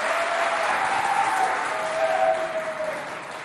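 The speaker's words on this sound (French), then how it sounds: "On l'applaudit." A school audience at a collège quiz event bursts into steady, dense applause, many hands clapping together for a few seconds and tapering slightly at the end, with a faint held tone underneath.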